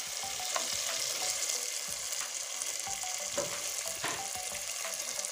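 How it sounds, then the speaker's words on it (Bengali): Chopped tomato and spices sautéed together in a pan, giving a steady, continuous close sizzle with occasional scraping stirs and no voices. "এবার সবগুলো মশলা একসঙ্গে কষতে থাকবো।"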